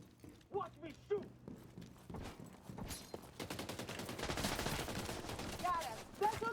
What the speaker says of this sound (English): Watch me shoot.